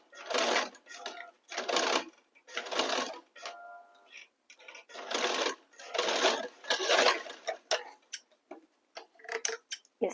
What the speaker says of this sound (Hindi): अब इसके ऊपर गोलाई में सिलाई कर लेंगे